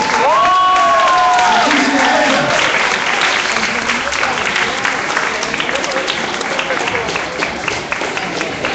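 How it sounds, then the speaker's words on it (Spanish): An audience at an award ceremony applauds loudly in a dense, sustained burst of clapping with scattered cheers. It tapers slightly toward the end as a voice speaks over it. "Aplausos, bien merecido por todas ellas."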